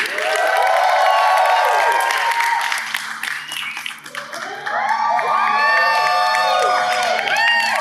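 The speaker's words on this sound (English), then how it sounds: "Let's give a big round of applause. Well, just like shout because you're holding your phones. Let's shout for Rachel Brosnahan!" A press conference crowd in Manila cheers, whoops and applauds for actress Rachel Brosnahan, a loud sustained roar of many voices with high shouts and clapping that dips briefly midway, then swells again.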